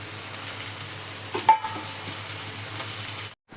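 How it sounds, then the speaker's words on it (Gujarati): Onions and chilies fry in hot oil with a steady broadband sizzle, punctuated by a brief clatter as tomatoes go into the pan, and the frying continues without talk until a short cutoff near the end. "તો જો ડુંગળીને મરચાં ચડે છે તેલમાં થોડી વાર ચડવા દઈએ અને હવે નાખી દઈએ ટમેટા"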